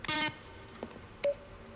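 Several short electronic button beeps from The Stanley Parable, a brief burst of tones at the start and then two isolated clicks with a lingering tone, quiet and without talk.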